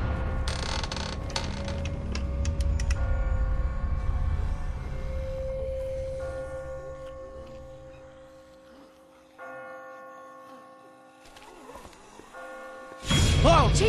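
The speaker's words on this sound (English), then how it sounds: "She doesn't like it when somebody else is ringing the bell." A church bell sounds in The Walking Dead video game, a clear ringing tone that rings on and slowly fades, with metallic clinks at the start and a brief loud noise at the end.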